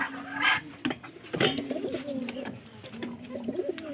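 Pigeons coo in a steady, repeated low rhythm close by, with a few short wing flutters and soft knocks mixed in.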